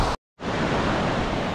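Sea waves wash onto a Baltic beach at Wicie on the Polish coast, a loud, steady rushing surf broken by a brief dropout of sound, with no talking.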